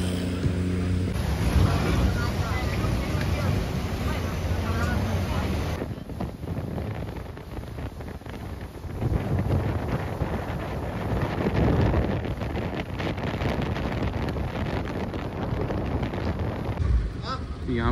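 Speedboat ride out to Hong Island in Krabi, Thailand: loud, steady wind buffeting the microphone over a rushing engine and water roar that runs for the whole stretch, with a brief quieter dip midway and voices at times.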